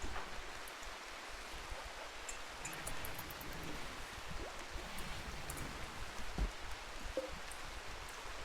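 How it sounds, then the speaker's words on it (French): Steady rain from the video game RimWorld, a soft continuous hiss of falling drops with no talk, even and fairly faint throughout. "il pleut, ça va encore endommager nos composants."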